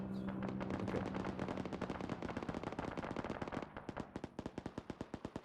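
Automatic gunfire from the Arma 3 Antistasi game, fired at a target: dense overlapping bursts give way to a steady run of sharp, evenly spaced shots, loud and close with no talking.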